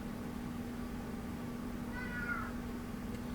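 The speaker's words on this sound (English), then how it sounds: "I knew that cat, she's gonna make noise, so just ignore her." A cat meows once, a short, fairly faint cry over a steady low background hum, with no talking.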